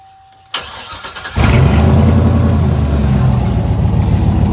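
A Chevy pickup truck engine cranks and catches, then runs loudly and steadily with a rough, rumbling exhaust note.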